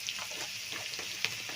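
Tomato, garlic, onion and ginger fry in a pan while being stirred, giving a steady close sizzle with soft scraping stir strokes and one brief clink, no talk.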